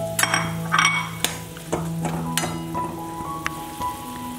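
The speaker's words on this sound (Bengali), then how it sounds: "3-4 মিনিট টকবক করে ফুটছে তেঁতুল জল" Tamarind water with lentil fritters in it boils in a pot for borar tok. Soft bubbling pops and crackles come close and continuous, with scattered sharper ticks and light clatter, and no talking.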